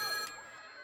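A telephone bell rings in a short, loud burst that quickly tapers off, with no voices over it.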